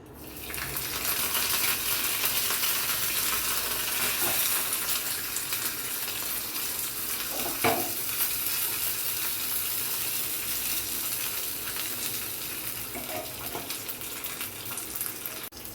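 Black and white mustard seeds, green chilli and curry leaves sizzle and spit in hot oil, a steady, bright crackling hiss that runs throughout with a few sharper pops.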